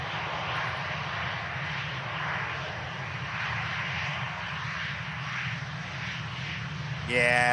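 The jet engines of a Qatar Airways Airbus A350 at Manchester Airport give a steady, moderately distant roar with low rumble, beneath people talking, rising briefly louder at the very end.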